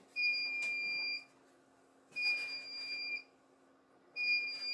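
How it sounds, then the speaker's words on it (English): An egg incubator with its lid off sounds a high electronic beep, three roughly one-second tones spaced evenly apart over a steady low hum, warning of changed temperature and humidity. "That's just beeping to tell me that the temperature and humidity level has changed because I have the lid off"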